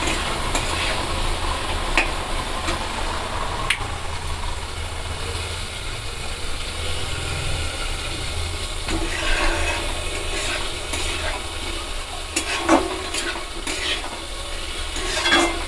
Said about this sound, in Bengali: তা আমি এবার এটাকে ভালোভাবে নেড়ে চেড়ে কষিয়ে নেব।